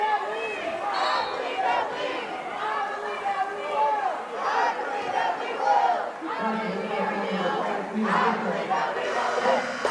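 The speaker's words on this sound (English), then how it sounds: "you can hear the La Follette fan section cheering" A high school basketball crowd at a Madison La Follette versus Madison Memorial game chants and cheers in unison, a sustained, rhythmic mass of voices filling the gym.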